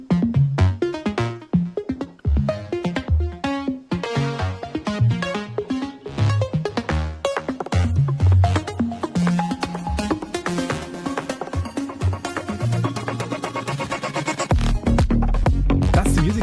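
Digital electronic music composed by the Final Fantasy XI composer plays continuously and loudly, a busy stream of dense synthesized notes and beats with a heavier low-end passage near the end.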